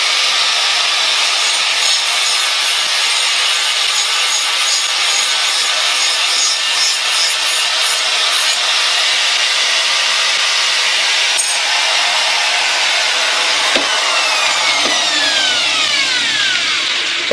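A basic knife edge is ground or worked with steady, continuous rasping strokes to raise a light burr, the harsh scraping staying loud and even throughout, with a few brief squeaky scrapes toward the end.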